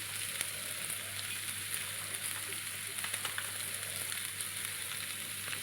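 Soybean chunks frying lightly with a pinch of salt in a pan give a steady, soft sizzle throughout, close and even, with faint occasional crackles and no talking.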